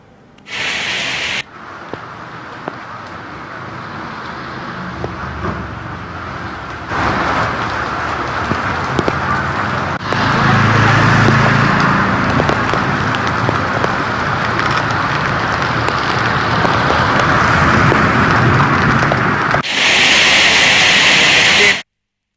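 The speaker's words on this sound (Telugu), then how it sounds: "భారీ వర్షం కారణంగా పలుచోట్ల రోడ్లపై నీరు నిలిచి భారీగా ట్రాఫిక్ జామ్" Heavy rain hisses steadily over waterlogged Hyderabad roads during a traffic jam, a dense continuous wash of spray and downpour with vehicle rumble beneath, swelling louder in the second half.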